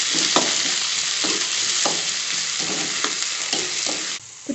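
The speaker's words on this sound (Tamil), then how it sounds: "தக்காளி போட்டுக்கிட்டோம்." Chopped tomatoes frying with onions and chili in a pan, a steady loud sizzle with regular scraping stirs about every half second, close up and without talking.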